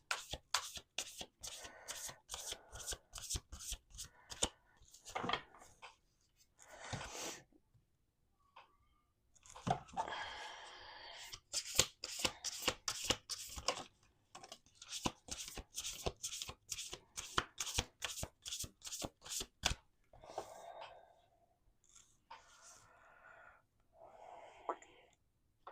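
A deck of tarot cards is shuffled close up in repeated bursts of quick riffling clatter, separated by short pauses and soft handling noises. Faint whispery breathing is heard here and there.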